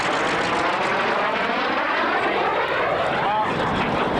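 An F-80 Shooting Star, the first American jet fighter, with straight wings and a straight tailplane, produces a steady, loud engine roar that fills the whole stretch, with talking mixed in.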